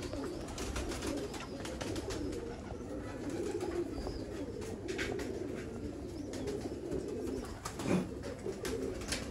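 Pigeons coo continuously in low, rolling throaty phrases from a loft, several birds overlapping at moderate distance with a faint rustle of wings and no speech.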